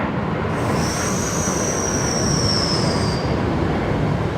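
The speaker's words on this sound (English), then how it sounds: "That was the train, yes, just below me making a few weird sounds." A train passing just below a plane-spotting position at Brisbane Airport gives a loud, steady rolling rumble with a high, sustained wheel squeal running for about two seconds. No voices are heard.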